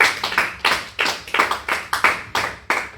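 Hands clap in a church congregation praising the Lord, a fairly close, steady rhythmic clapping of about a dozen crisp claps over three seconds with no talking.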